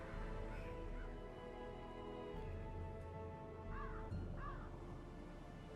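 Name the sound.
Shrieker bird cawing in Darkest Dungeon video game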